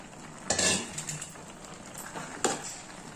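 A utensil stirring tomato tamarind pickle in a pan, with a few scraping, clinking strokes against the metal over a faint background hiss, close by and without talk.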